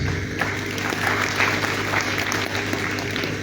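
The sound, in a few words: audience applause at a forum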